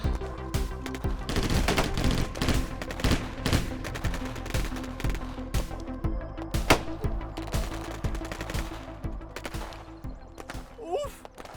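Heavy gunfire in a post-apocalyptic action movie battle, with dense bursts of automatic weapons and rapid overlapping shots, loud and close throughout, while voices shout amid the shooting.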